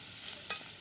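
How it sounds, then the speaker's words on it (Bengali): Spice paste with chopped onion, green chilli, turmeric and salt fries in oil in a pan, a faint, steady hiss punctuated by two short scraping stirs near the end. "মশলাগুলো আগে ভালো করে ভাজি ভাজি করে নিচ্ছে"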